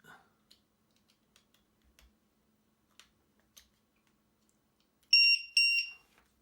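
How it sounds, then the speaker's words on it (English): A cheap low-voltage battery checker fitted in a Tamiya Neo Scorcher TT02B RC buggy gives two short, loud, shrill beeps near the end, after a few quiet clicks and handling taps. "when it drops to a certain level it will sound the alarm"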